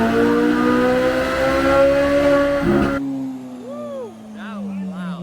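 2023 Corvette C8 Z06 engine on a dyno run, revving hard with a rising pitch that holds, then a sharp cut and exhaust crackles and pops as the revs fall away.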